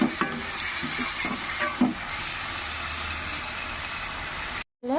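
Meat frying in a pan with onion, cumin and black pepper gives a steady close sizzle with a few scraping stirs early on, then cuts out abruptly near the end.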